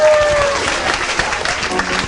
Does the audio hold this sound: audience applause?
yes